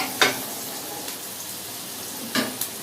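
Food frying in a home kitchen pan before eggs go in makes a continuous, even sizzle, broken by two sharp clinks of a utensil against the pan near the start and end.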